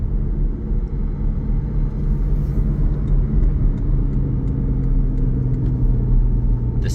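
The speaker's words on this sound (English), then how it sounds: "All right, we're going on a quick test drive here." A green 2021 Porsche 718 Cayman GTS 4.0 with 19,422 miles is out on a test drive, its engine and road noise a steady, loud rumble from inside the cabin that holds throughout with no talking.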